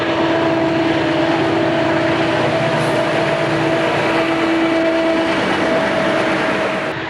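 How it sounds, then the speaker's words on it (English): A westbound Conrail freight train on the Reading line rumbles past loud and close, a continuous roar of rolling wagons with a steady tonal hum and faint clatter, no voices. "Here we got a westbound Conrail guy in the farmyard coming up the Reading line."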